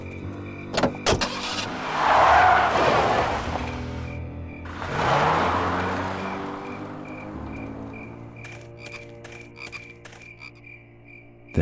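A car drives off in the adventure game Full Throttle, with two swelling engine roars a few seconds apart over a steady ambient hum, fading into faint clicks and chirps.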